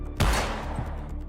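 Gunfire from a gnome's gun in a video game: a single loud, booming shot at the start that rings out and decays over a second, with a faint second thump after.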